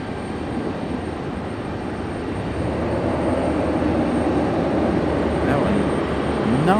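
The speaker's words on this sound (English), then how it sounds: "This one coming in from Wilmington, our second ATR of the night," ATR turboprop airliner arriving from Wilmington at Raleigh Durham airport, a steady broad engine drone that grows slightly louder, with faint voices talking over it.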